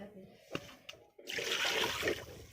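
Water runs and splashes over 750 grams of chicken pieces being washed. A few brief knocks come first, then a steady, close rush of water lasts for about the last half.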